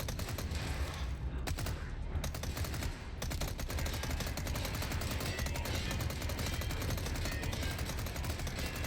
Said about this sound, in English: One of them has pieces of armor, so keep shooting until he's dead.